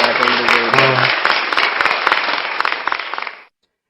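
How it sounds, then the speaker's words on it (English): A crowd claps and applauds loudly and steadily before stopping abruptly, with faint voices mixed into the dense clapping. "So let's clap it up for that."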